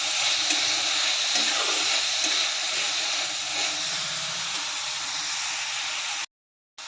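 Vegetables stir-fry for veg hakka noodles with oregano, giving a loud, continuous close sizzle and hiss with faint stirring that cuts off abruptly just before the end.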